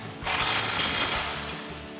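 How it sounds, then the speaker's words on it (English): A ratcheting 19mm socket on an extension turns down a lower mounting bolt during a Toyota Tacoma coil-over install, giving a steady run of close, rapid clicking for about two seconds with no talk. "we're gonna tighten our lower mounting bolt back down, again with our 19mm socket and extension and our 19mm wrench"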